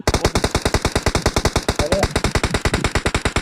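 Sustained automatic gunfire in PUBG Mobile rings out as a long, loud, evenly paced stream of close shots, roughly ten per second, continuing without a break from start to finish.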